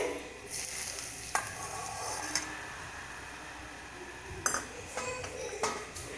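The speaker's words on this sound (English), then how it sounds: "When you put the oil, it should make that sizzling sound." Hot oil sizzles with a continuous bright hiss while frying onion pakoda, broken by a few sharp clinks of utensils against a pan; no one speaks.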